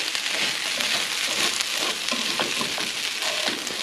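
Cold day-old rice heating in a hot pan on a stove, a steady loud sizzle and crackle of frying with occasional stirring scrapes, close and continuous with no talking.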